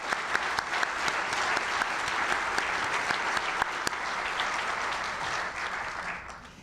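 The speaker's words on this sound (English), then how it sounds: "let's have another round of applause for all of the Order of the Knoll Award recipients" Banquet audience at a distinguished awards celebration gives sustained applause for the Order of the Knoll Award recipients, a broad even wash of many hands clapping that tapers off near the end.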